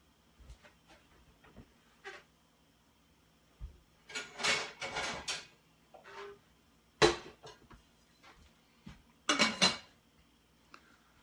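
Pots, pans and lids clank and clatter in bursts while someone rummages through kitchen cookware for the lid of an old stock pot, with sharp metallic knocks, scrapes and pauses, close by and with no talk.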